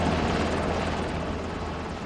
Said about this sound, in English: we'd hired a Black Hawk helicopter to come in and pick this thing off the hill